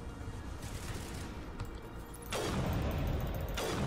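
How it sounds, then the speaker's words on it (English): Sustained rapid gunfire from a firefight in Mass Effect 1 against Geth units, a dense crackling barrage that grows louder and heavier midway before briefly easing near the end. "Keep shooting."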